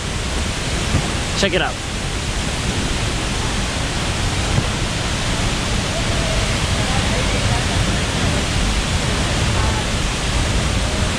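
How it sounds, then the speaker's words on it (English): The La Fortuna waterfall in the Costa Rican jungle makes a dense, constant roar of heavy falling water that fills the whole clip, with a brief spoken remark heard over it near the start. "Here it is, the La Fortuna waterfall."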